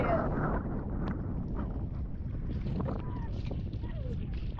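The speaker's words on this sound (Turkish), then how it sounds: "Hava çok rüzgar var." Strong wind buffets and roars across the microphone at a seaside cove in Urla, Izmir, constant and loud throughout, with faint indistinct sounds beneath.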